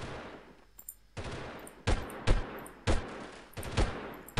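An M249 SAW machine gun fires in the game Delta Force, its loud bursts of automatic fire repeating close up at irregular intervals with no one talking.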